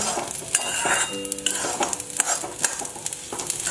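Rice fries in a pan for pulao, a close, busy sizzle broken by repeated scraping stirs and light metal clinks of the spoon against the pan.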